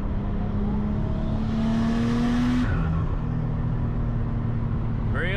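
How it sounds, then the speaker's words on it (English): A Nissan Skyline R33 GTST revs hard with a rising engine tone, then the note breaks into a rough, fluttering turbo wastegate chatter as the engine drops back, with the car rumbling close by throughout. "Wastegate sounds absolutely bonkers."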